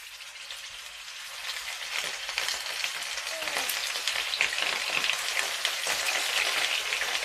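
Pieces of meat sizzle and crackle as they fry in hot oil in a home kitchen pan, a dense steady hiss that grows slightly louder over time and plays alone without talk.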